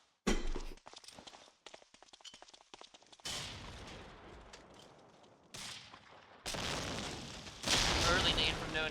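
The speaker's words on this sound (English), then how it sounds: "Nades flying down the street as well from Axis." Grenades exploding down a street in the WWII shooter Medal of Honor: Allied Assault, several loud blasts in sequence between footsteps and scattered gunfire, with a commentator talking throughout.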